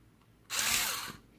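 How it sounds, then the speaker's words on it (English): A power drill bores into the rivets of a 55 Chevy Hot Wheels die-cast car, a single loud whine lasting under a second against quiet surroundings. "if you drill these out, this base will separate from the body of the vehicle"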